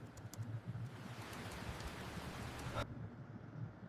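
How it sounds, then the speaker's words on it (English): Steady rain falls outside as a soft, even hiss of drops, fairly quiet and continuous with no voices. "There is rain outside, which he stopped noticing about an hour ago."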